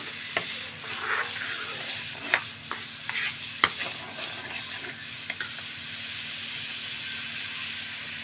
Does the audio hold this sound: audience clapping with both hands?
no